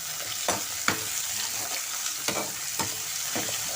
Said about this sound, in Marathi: ह्याच्यामध्ये हा टोमॅटो टाकायचा आणि परतून घ्यायचं.